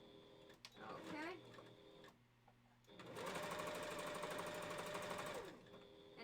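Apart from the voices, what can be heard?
sewing machine stitching minky fabric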